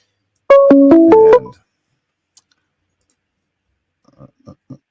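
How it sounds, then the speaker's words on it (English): A telephone rings during a live call-in talk show, giving a short burst of loud stepped electronic ring tones, followed by silence and then a few faint distant clicks. "Oh, and the phone is ringing."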